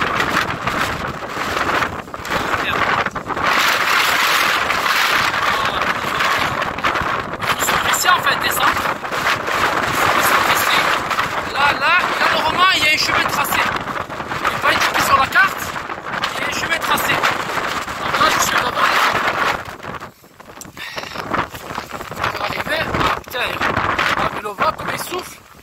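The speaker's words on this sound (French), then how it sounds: "il y a vraiment beaucoup de vent par rapport à là-bas" Strong wind buffets the microphone in steady roaring gusts in a cedar forest, with a brief lull near the end before it picks up again.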